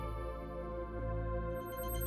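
A telephone rings with a sustained electronic tone, heard faintly and continuously for about two seconds.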